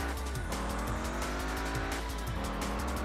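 Tires squeal as a car spins out on a corner in the racing game Test Drive Unlimited, a sustained skidding screech over steady engine drone, loud and close.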